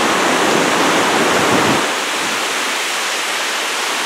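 River flowing beneath a hanging footbridge, a steady loud broadband rush of water that carries on without pause and fills the whole clip, with no voices over it.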